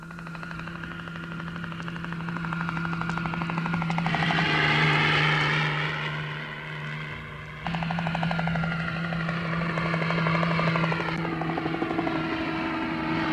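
A helicopter drones steadily with a low rotor hum and engine whine, swelling louder mid-way, dipping briefly, then holding strong and close.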